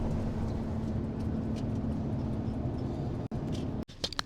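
Steady broadband road rumble inside a car while riding along a road in Thailand, continuous and moderately loud with a low hum throughout, broken by a couple of brief dropouts and small knocks near the end.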